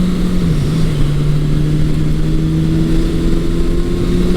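A 1982 Suzuki GS750E motorcycle on a test ride after carb work, engine droning loud and close with a steady tone that climbs slightly in pitch as it pulls, wind noise underneath.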